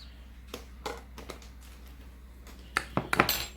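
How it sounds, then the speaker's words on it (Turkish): A spoon stirs ground spices and black cumin together in a bowl, giving scattered light metallic clinks and taps that grow into a quicker cluster toward the end, close and without talk. "Bunları karıştırarak birbirlerine iyice karışmasını sağlıyoruz."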